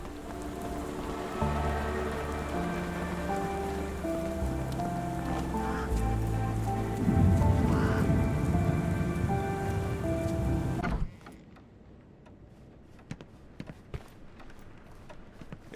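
Rain falls on a London street in Sherlock Holmes: The Awakened, a soft, steady patter under game music that cuts out abruptly partway through, leaving a few faint clicks.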